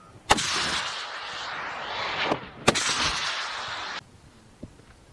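Two loud blasts from an M3E1 MAAWS recoilless rifle firing on an Army test range, each a sharp crack with a roaring rush that fades. Silence follows the second blast.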